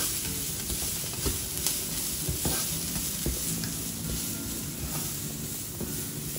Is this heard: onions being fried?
yes